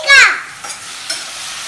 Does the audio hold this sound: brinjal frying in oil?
yes